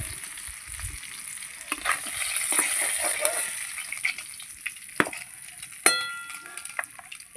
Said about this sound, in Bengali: পরের মাছগুলো ভাজা হয়ে গেছে, তুলে নিচ্ছি। দুটো করে ভাজছি